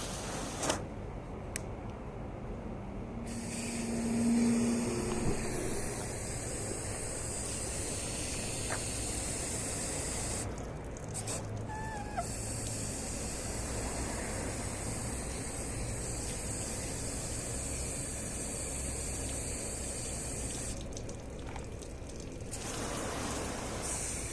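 A garden hose sprays water over a Mercedes W140 S500 in a long, steady hiss with a few brief breaks and faint knocks.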